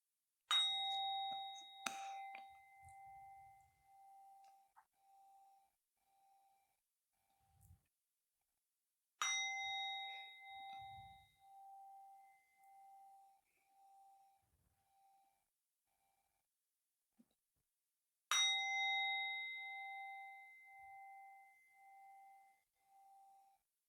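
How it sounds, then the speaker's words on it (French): A Tibetan singing bowl is struck three times, several seconds apart, each strike a clear bright ding that rings on and fades slowly in a quiet room. "Déjà, 3 petits coups de bol tibétain."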